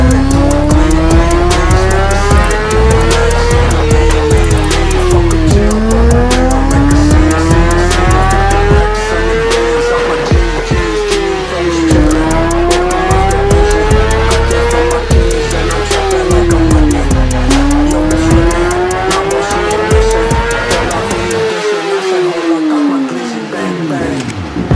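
A 2014 BMW HP4 motorcycle revs hard on a dyno, the engine climbing repeatedly in long loud pulls with brief drops between them, shifting up through rising sweeps before cutting off near the end.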